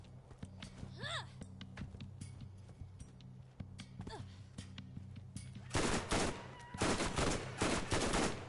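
Turret gunfire in the Borderlands video game rattles in loud bursts, dense and sustained in the second half, with game sounds and chirpy effects earlier over a droning backdrop.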